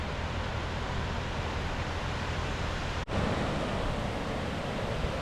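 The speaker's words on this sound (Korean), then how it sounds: "강물의 속삭임 같은 소리를 들었습니다." Steady broadband rush of river water flowing and murmuring, heard while walking down a sloped street in Kurokawa Onsen hot-spring town in Japan; a continuous, fairly even wash with no voices.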